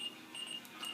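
Fire pager on its alert setting gives short electronic beeps, three separate tones in about a second, faint and thin against quiet room background.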